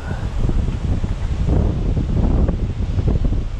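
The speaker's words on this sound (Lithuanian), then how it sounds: "Labai didelis vėjas tempia musę pasroviui." Strong wind gusts at a river in Bosnia during fly fishing, a loud, steady roar and buffeting across the microphone from start to finish with no voices.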